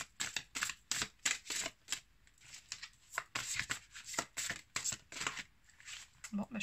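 Tarot cards shuffled and drawn from a deck: a quick series of close, crisp riffling and flicking bursts with short gaps, continuing for several seconds.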